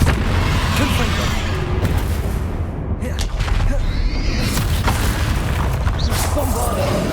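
Confringo fire-blast spells bursting in the Hogwarts Legacy final battle, booming explosive hits amid continuous loud combat noise and spoken spell incantations.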